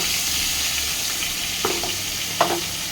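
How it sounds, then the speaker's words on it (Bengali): Pieces of catla fish belly fry in a pan with a loud, close, continuous sizzle and crackle, with a couple of brief stirring or turning knocks partway through. "এক সাইড ভাজা হয়ে গেছে,"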